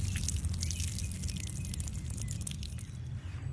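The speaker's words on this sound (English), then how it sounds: "Give everything a good drink of water." Water from a watering can drips and patters steadily onto soil around newly planted bean seeds at the base of a garden bean teepee, a close, continuous trickle with scattered droplet splashes.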